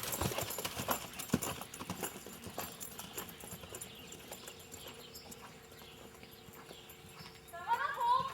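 Horse loping in an arena during a reining training session, with steady rhythmic hoofbeats close by under ongoing talk and a brief whinny-like sound near the end.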